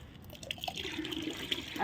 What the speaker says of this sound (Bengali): পেঁয়াজের যে জলটা আছে, খোসার জলটা এই ভাতের মাড়ের সঙ্গে দিয়ে দেবো।